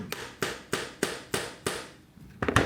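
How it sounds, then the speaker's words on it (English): A hammer strikes a metal button-setting tool about seven times in a quick, even rhythm, each blow a sharp, close crack, ending in a cluster of lighter taps. "we're going to pound on that with a hammer a few times, and that should give us our button"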